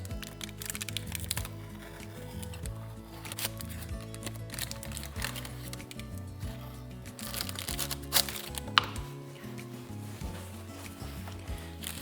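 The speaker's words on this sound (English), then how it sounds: "Give it a good shuffle to get that sugar evenly dispersed." Sugar shaken across hot lavender shortbread in a baking tin, a steady gritty rattle and crinkly shuffling that runs the whole time at close range, with occasional sharper clicks and no talk.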